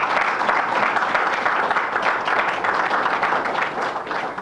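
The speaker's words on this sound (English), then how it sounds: "I think that deserves a round of applause." A crowd at an Eastern Shore broadband event breaks into a steady round of applause, dense, even clapping that carries on for several seconds before easing slightly at the end.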